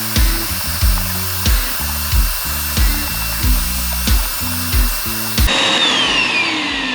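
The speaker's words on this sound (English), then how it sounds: "We're gonna vacuum this bad boy up" A small wet/dry shop vacuum is used on car floor mats. Regular rhythmic thumps come first, then the vacuum's loud, steady whooshing hiss starts near the end.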